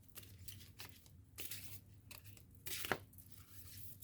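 Oracle cards shuffled by hand in a few short, quiet bursts of papery rustling and riffling, separated by near-silent pauses.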